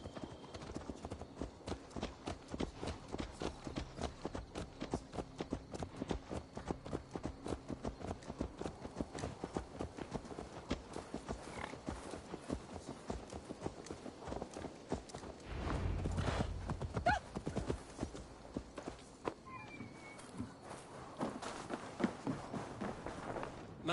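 Horse hooves clip-clop steadily through a medieval Viking settlement in Assassin's Creed Valhalla, a continuous walking rhythm under game music and ambience, with a louder burst of movement midway; no clear neigh stands out.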